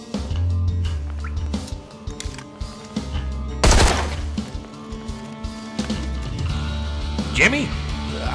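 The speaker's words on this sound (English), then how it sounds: "I hear gunfire." Gunfire with several sharp shots cracking over a dense mix of rumble and clatter, one loud burst near the middle, with voices talking beneath.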